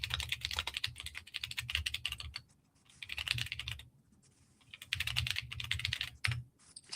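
Rapid clattering keystrokes on a computer keyboard come close and clear in bursts, broken by brief pauses, with no talking.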